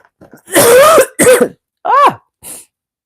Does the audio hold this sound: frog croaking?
no